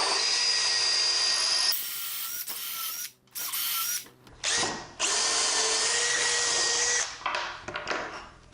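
A power drill bores screw holes into a wooden mobile base for a tablesaw, high whining bursts of drilling separated by short pauses, close and steady, with a final run toward the end.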